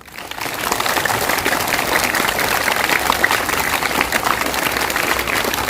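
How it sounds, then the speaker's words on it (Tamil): Children at a school assembly for the new academic year clap together in a loud sustained burst, a dense crackle of many small hands that starts abruptly and holds steady, with faint voices mixed in. "எல்லாம் ஜோரா கைத்தட்டு பார்ப்போம்."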